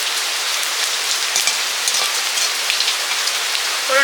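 Heavy rain falls steadily throughout, a dense, even patter on surfaces with no voices.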